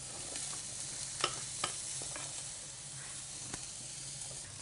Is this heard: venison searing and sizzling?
yes